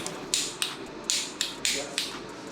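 A torque wrench tightens the rocker arm bolts on a KTM SMC 690 to 12 Newton meters, giving a series of six crisp ratcheting clicks at irregular intervals, close up and alone.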